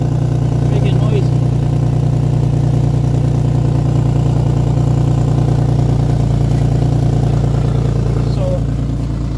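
An Infiniti car idles with a steady, droning exhaust hum and faint ticking from a leak at the Y pipe, close and continuous.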